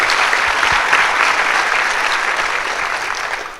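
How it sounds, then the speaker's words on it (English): An audience claps steadily throughout a school district staff recognition ceremony honoring a transportation employee, a dense, even round of applause from a roomful of people that tapers slightly at the end. "Let's give him a round of applause."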